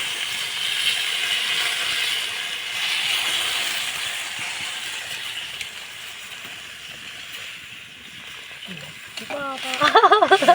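Water poured into a hot pan of prawn curry with bottle gourd and Malabar spinach gives a loud, steady sizzling hiss that fades a little midway. A brief voice is heard near the end.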